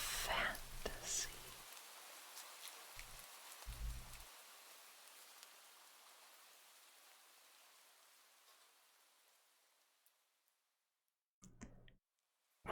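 A looping rain ambience made of soft pattering and clicking drops. It fades to near silence and then briefly starts again, with whispering heard over it.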